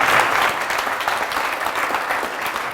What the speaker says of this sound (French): applaudissements pour moi